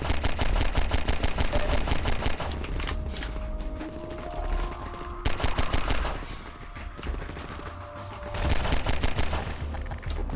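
Dense gunfire rattles through a first-person shooter, with rapid cracks in close bursts that stop briefly and resume, mostly loud and alone with little talk.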